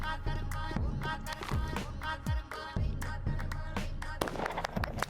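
Gunshots from the video game Pathologic Classic HD ring out as a series of sharp, loud cracks, several in quick succession, over a dense game soundtrack with booming low tones.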